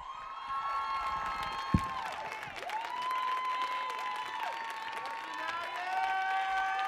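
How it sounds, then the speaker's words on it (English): A live audience at a youth spoken-word performance on the Millennium Stage applauds and cheers with whoops. The clapping runs continuously and loudly throughout, with a few voices ringing out over the crowd. "can we get another round of applause for Saniya, please?"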